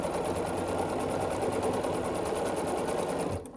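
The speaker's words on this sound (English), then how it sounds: "Then I will sew the middle together, the middle two pieces in the first two rows." A sewing machine stitches quilt pieces together in one steady, fast mechanical whirr close by, stopping abruptly at the end.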